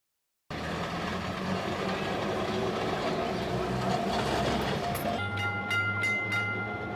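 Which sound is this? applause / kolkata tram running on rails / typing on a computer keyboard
kolkata tram running on rails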